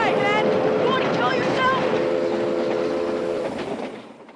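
A train rushing past in the 1986 film Stand By Me, a loud steady roar with rhythmic rail clatter and a sustained horn-like tone, fading toward the end.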